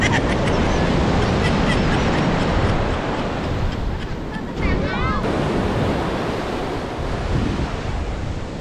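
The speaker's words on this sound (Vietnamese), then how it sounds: "biển hôm nay sóng nó lớn lắm nha mọi người" Large ocean waves crash and roar continuously on a beach, loud and close, with strong wind buffeting the microphone throughout and a brief birdlike chirp partway through.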